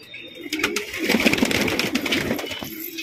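A pigeon coos in a few soft, throaty pulses close by, with faint background noise and brief human voice around it.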